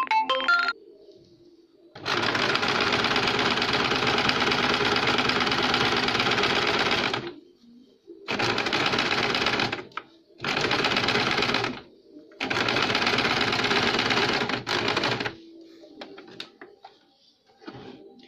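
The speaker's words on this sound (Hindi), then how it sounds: "अब इसके हम चारों तरफ सिलाई लगाएंगे।" A sewing machine stitches the tucks of a blouse lining in four bursts of rapid, even whirring, the longest about five seconds, separated by short pauses as the fabric is turned, close and clear.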